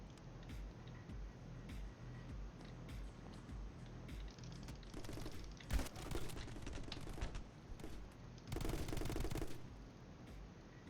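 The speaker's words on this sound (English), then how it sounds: "I've got like a assault rifle here" Assault rifle fire in My Friend Pedro: quick rattling bursts of automatic shots, a sparse ticking run early on, then two dense loud volleys near the middle and end, over a low game backdrop.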